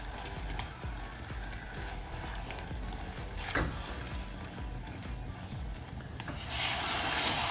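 Fig and date mixture being stirred in oil in a pan for burfi, a steady low sizzle with scraping rubs of the spoon throughout, growing slightly louder and brighter toward the end.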